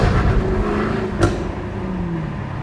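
Jaguar F-Type engine accelerating at night, a rising engine drone with a steady tone climbing and then settling, heard from inside the car, with a brief click partway through.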